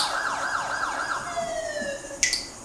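An ambulance siren in a film scene wails in rapid rising and falling sweeps, then changes to a steady tone, fairly loud and close, ending with a brief sharp burst.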